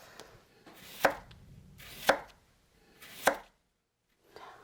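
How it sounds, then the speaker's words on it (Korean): A knife slicing a cucumber very thinly on the diagonal: three sharp, close chops about a second apart, each landing after a soft scrape, then a brief gap and a fainter fourth cut. "오이는요, 슬라이스로 자를 거예요"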